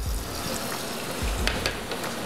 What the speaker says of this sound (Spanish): Ahora vamos a proceder a hacer la fritura